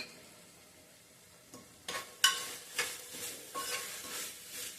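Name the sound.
grated fresh coconut being sautéed in a pan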